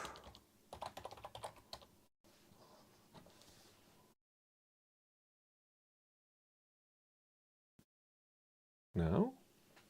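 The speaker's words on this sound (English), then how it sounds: "Because this typing was just 2 seconds ago." Rapid typing on a computer keyboard fills the first four seconds with close, irregular key clicks, followed by near silence and then a short loud burst of another noise at the end.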